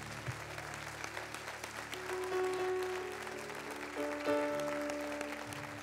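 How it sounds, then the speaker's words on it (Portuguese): A church congregation claps in sustained, moderately loud applause, with a soft hum of music and some crowd voices beneath it. "Vamos dar uma salva de palmas para Jesus, é muito lindo isso."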